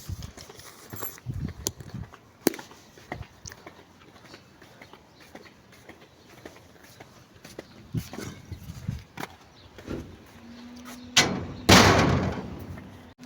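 A house door is shut and locked with scattered thumps and clicks, and then a louder slam and rattle come near the end, over faint background noise.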